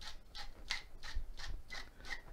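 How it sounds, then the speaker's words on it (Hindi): A hand grinder cracks black pepper over raw lamb shanks in a series of about seven quick, rhythmic rasping twists, close and fairly soft with no talking. "ब्लैक पेपर को भी आप इसके ऊपर ऐसे ग्राइंड करें"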